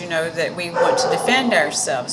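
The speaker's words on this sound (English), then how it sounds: "sorry about the dog barking" A dog barks and yips in short bursts in the background of a room while a person keeps talking over it.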